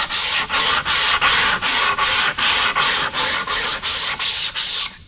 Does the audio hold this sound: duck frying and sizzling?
no